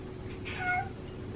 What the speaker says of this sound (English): And he's meowing.